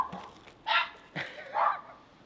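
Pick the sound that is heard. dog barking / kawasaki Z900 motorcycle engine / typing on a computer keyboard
dog barking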